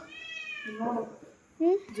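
A cat meows twice up close, a drawn-out wavering call followed by a short sharp one, with a person's voice briefly audible in between.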